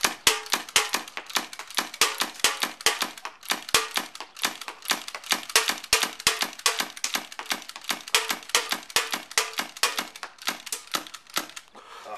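A Tokyo Marui HK MK23 SOCOM airsoft pistol fires shot after shot in a long string of sharp cracks, loud and close, in rapid steady rhythm with no talk over it.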